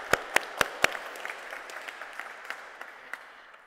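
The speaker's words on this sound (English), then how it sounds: "I'll give her one more round of applause." A parish audience gives a brief round of applause: a few sharp, close claps ring out first, then scattered, thinner clapping trails off in a reverberant hall.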